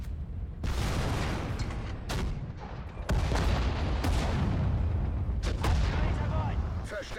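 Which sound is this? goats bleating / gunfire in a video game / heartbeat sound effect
gunfire in a video game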